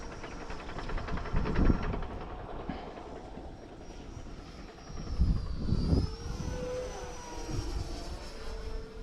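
E-Flite Viper 90mm electric ducted-fan RC jet flying in wind, a steady high whine that swells and fades as it passes, with gusts of wind buffeting underneath, heard from the ground at moderate distance.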